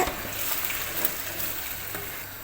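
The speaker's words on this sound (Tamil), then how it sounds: "தக்காளியை சேர்த்துட்டு ஒரு கிளறிடுங்க" Tomatoes for chicken biryani sizzle and fry in a pan while being stirred, a continuous soft crackling hiss with a few faint scrapes, moderately quiet and without speech.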